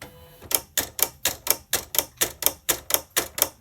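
A sticker cutting machine cuts through paper with a loud, steady run of sharp mechanical clacks, about four per second, close up and alone.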